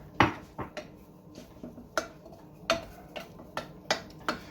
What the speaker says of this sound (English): now I'm going to toss in just a little bit of the flour and start stirring it in